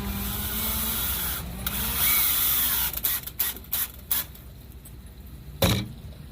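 Screws being driven into a replacement porch post, a drill whirring in short bursts with a few sharp clicks and knocks, close and fairly loud.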